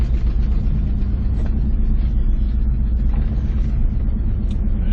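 Pickup truck engine idling and rumbling steadily while reversing slowly down a road, a close, continuous low drone with no talking.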